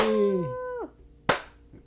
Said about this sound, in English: So I'm going to clap